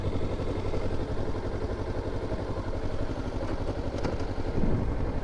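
A Kawasaki Ninja 300 motorcycle climbs uphill, its engine giving a continuous rough drone with wind rumble, close and fairly loud from start to finish.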